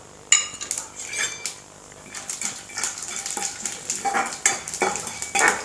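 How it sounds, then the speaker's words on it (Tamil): Urad dal and chana dal crackle in hot oil as tempering for millet upma, with a spoon scraping and clinking against the pan in irregular bursts, close and alone. "கடுவழுந்தம் பருப்பு, கடலைப்பருப்பு தாளிக்கிறதுக்கு போகிறோம்."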